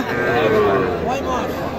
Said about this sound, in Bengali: খুবই চমৎকার একটি বকনা বাছুর